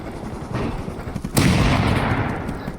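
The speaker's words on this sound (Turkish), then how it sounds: "Ulan patladı değil mi?" An explosion during a base raid in the survival game Rust: a sudden sharp boom hits midway, then a rumbling tail decays over a steady background of game noise.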